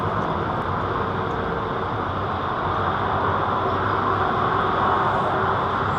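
A Boeing 777 airliner departing London Heathrow, a steady broad engine roar holding at constant loudness, distant and unbroken with no voices.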